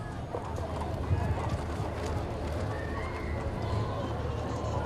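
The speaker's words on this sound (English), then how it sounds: "Nice to see all the horses out for the Frontier Days Parade." Horses clip-clop along a street in the Charlotte Frontier Days parade, hooves tapping irregularly at mid distance beneath a steady hum of crowd noise and nearby talk.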